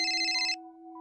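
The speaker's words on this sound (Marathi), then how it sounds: "अरे स्वीटूचा फोन आहे." A mobile phone ringtone sounds loudly indoors in an office with a steady electronic melody, then cuts off abruptly about halfway through, leaving a faint sustained tone.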